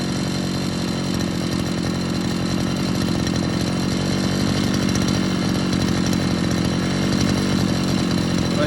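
A Chinese petrol brush cutter idles steadily at close range, its engine drone continuous and even throughout with no talk over it.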